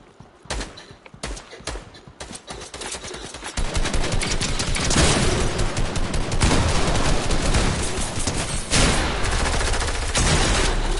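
Dense, loud gunfire in the video game Fortnite, with scattered shots early on building into a sustained barrage of rapid blasts that fills the rest of the stretch.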